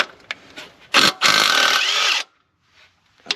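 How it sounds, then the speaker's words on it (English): A pneumatic rattle gun fitted with chrome sockets removes bolts while a Barra burnout car is being supercharged. A short sharp burst is followed by a loud, close, rattling whir of about one second, then quiet and a few faint clinks. "Always feels good being able to take that one off with a rattle gun"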